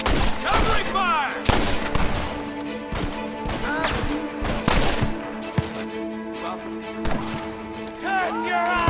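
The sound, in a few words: gunfire in video game Red Dead Redemption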